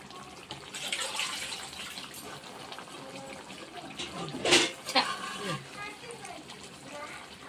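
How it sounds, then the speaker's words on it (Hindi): Water pours from a vessel into a cooking pot of moong dal with jackfruit and potato, a splashing gush that swells in two brief bursts midway, while someone talks over it. "गिना पानी देदेबा सिझापे।"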